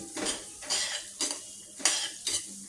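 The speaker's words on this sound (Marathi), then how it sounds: "रवा तुपामध्ये छान असा भाजून घेते एकसारखा ढवळून तांबूस अशा रंगावरती भाजून घेते" Semolina roasting in hot ghee in a pan, stirred with a metal spoon in five evenly spaced scraping strokes, each with a clink against the pan over a soft sizzle.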